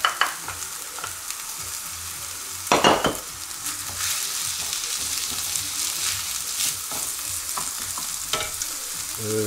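Mushrooms for a mushroom and mascarpone risotto sizzle steadily in a hot pan, with a few sharp scrapes and clatters of a utensil stirring them, close and clear with no talking.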